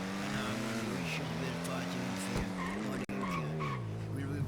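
Car in a French video game roleplay driving with a steady engine drone that rises and falls, tyres skidding and squealing, voices talking over it throughout.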